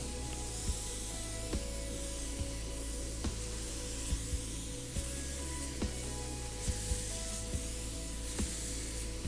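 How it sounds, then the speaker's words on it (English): A paint spray gun lays a wet final coat of Chevy paint, giving a steady, loud, close hiss throughout with faint clicks and small bumps along the way. "This is my final coat and I am going for full coverage, so I am applying it relatively wet"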